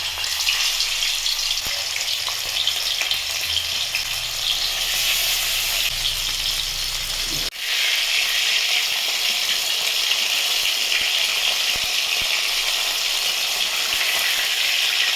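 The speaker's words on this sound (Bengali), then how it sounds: "এবার আমি মাছগুলোকে ভেজে নেবো" Small fish fry in oil with a loud, steady crackling sizzle that dips briefly midway, then resumes at full strength with scattered light pops, and no one speaks.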